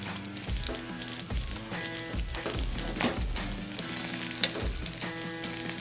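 Smoked sausage fries in butter in a pan for a breakfast feast, a continuous sizzle with rhythmic low thuds and clatter of the pan, close and moderately loud, with no speech.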